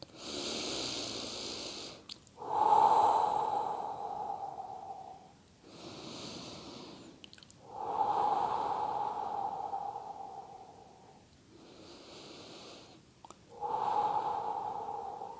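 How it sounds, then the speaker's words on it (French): Loud, deep relaxation breathing in a sophrology exercise: three long slow cycles, each a noisy inhale through the nose followed by a rushing, drawn-out exhale through the mouth, close and alone. "Nous inspirons par le nez et soufflons par la bouche. Respiration ample, profonde et bruyante."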